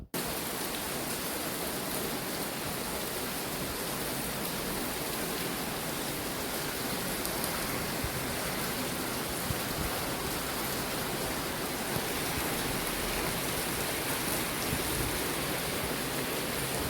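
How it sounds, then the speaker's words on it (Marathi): Heavy monsoon rain pours down in a steady, dense hiss that stays loud and unbroken from start to finish, with no voices or other sounds cutting through. "पावसाचा आवाज ऐका"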